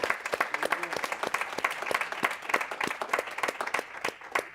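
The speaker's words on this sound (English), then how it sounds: "I'll give them a round of applause." Audience at an economic conference session on Saudi Arabia breaking into applause, dense rapid clapping from many hands, sustained and fairly close.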